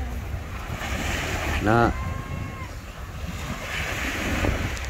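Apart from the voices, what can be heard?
sea waves and wind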